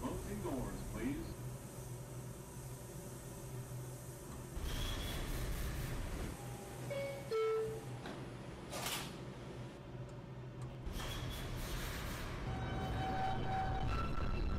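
A Bronx-bound 5 express subway train in the OpenBVE train simulator game hums and rumbles at a station as doors slide and chime, with a recorded announcement voice talking over the steady noise.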